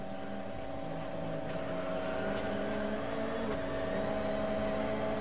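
A helicopter filming the 2013 Monte Carlo Rally, a steady mechanical engine drone with a whirring rotor hum holding constant throughout, moderately loud and unbroken overhead.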